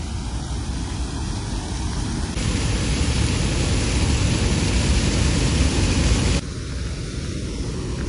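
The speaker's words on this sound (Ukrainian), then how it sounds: "А зараз покажу вам Київський водоспад." Steady broadband rush of the Kyiv waterfall, flowing water on a river near Kyiv, heard close and loud and alone, growing fuller and louder in the middle of the stretch before easing slightly.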